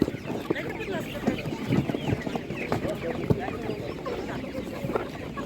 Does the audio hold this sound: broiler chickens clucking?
yes